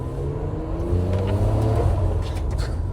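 A Nissan Skyline R33 accelerates, heard from inside the car as a steady engine drone that rises in pitch, close and continuous, with no talking.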